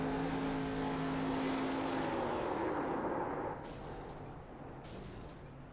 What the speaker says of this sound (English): There he's gonna do a burnout on the track there, it seems.